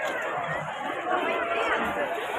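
A dense crowd chatters at a busy temple in Arwadi, many overlapping voices merging into a steady, close hubbub with no single speaker standing out.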